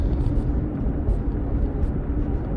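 A Honda CR-V engine runs smoothly while driving after its misfire has been repaired, a loud, steady low rumble of engine and road noise with no breaks.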